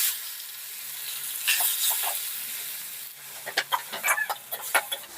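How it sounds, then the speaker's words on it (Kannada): Tomatoes frying in a pan over already-fried garlic and green chilli for rasam give a steady soft sizzle, then a run of sharp utensil clinks and scrapes as they are stirred. "ಟೊಮೊಟೊ ಸ್ವಲ್ಪ ಫ್ರೈ ಆಗ್ತಿದೆ"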